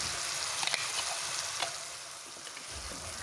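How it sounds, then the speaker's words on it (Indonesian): Ground spice paste sautéing in hot oil for a tofu and long bean dish, giving a steady, close sizzle and crackle throughout with a few soft stirring scrapes and no talk. "siapkan minyak secukupnya, kemudian tumis bumbu yang tadi sudah dihaluskan hingga harum dan benar-benar tanak"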